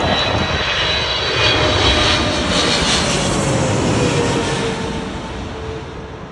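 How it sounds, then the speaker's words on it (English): A Boeing 777 airliner inbound from San Francisco on approach to land at Heathrow, its engines a loud, steady roar that holds close and overhead before slowly easing away toward the end. "So I believe this one coming up now, from what I looked at, is a 777 coming in from San Francisco."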